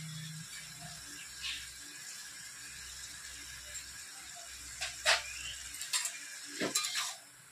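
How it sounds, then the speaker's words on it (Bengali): Bottle gourd and potato sauté with salt in a pan under a faint, low sizzle, broken by a few sharp spatula scrapes and clinks toward the end, with no voices. "লবণ দিয়ে এবার আমি লাউ আলু একসঙ্গে ভালো করে কষে নেব"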